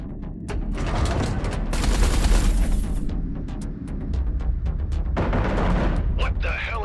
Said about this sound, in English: Eduardo, concentrate artillery fire on Blakemore's carrier.